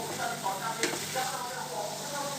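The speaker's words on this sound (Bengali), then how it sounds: "এরপর দিচ্ছি চিংড়ি মাছ দেওয়ার পর আরও কিছুক্ষণ ধরে আমি ভালো করে নেড়ে নিচ্ছি।" Prawns and a bay leaf fry in a pan while being stirred, with a steady sizzle throughout and soft scraping strokes of a spoon close by, and no voice over it.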